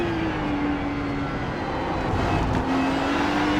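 A Ferrari GT3 race car rolls into the pits at Laguna Seca in iRacing, its engine a steady, loud drone with a sustained tone that dips slightly and then rises again as it cruises along the pit lane.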